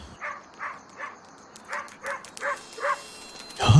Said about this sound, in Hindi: उस कुत्ते को भी क्या है, तब से भौंके जा रहा है।